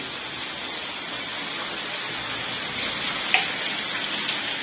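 Steady rain falls in a broad, continuous hiss, even and unbroken for nearly five seconds, with one brief sharper tap partway through and no voices over it.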